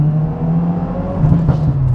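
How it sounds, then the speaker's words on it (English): A 2022 Subaru WRX fitted with an ETS cat-back exhaust, its engine held at a steady droning rev with a brief throttle blip near the end, loud and close with no talking. "This thing makes all the pops and bangs when you rev it out and when you downshift."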